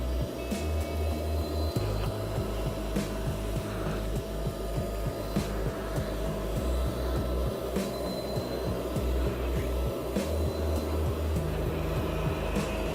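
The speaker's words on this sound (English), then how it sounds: "Now I'm just vacuuming, trying to get as much of the water out of the carpet as I can" A Kärcher Puzzi 10/1 spray extraction cleaner vacuums water out of carpet, a steady droning motor hum with rhythmic scraping and sucking pulses from the nozzle passes, heard close and continuous.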